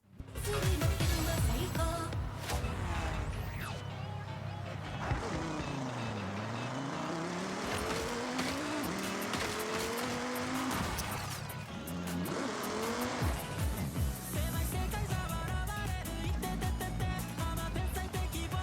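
In Forza Horizon 5, a Toyota 4Runner's engine revs and shifts through gears while driving, with rising and falling pitch, occasional tire squeal and a steady, fairly close drone throughout.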